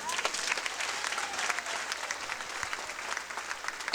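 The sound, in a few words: audience applause at comedy festival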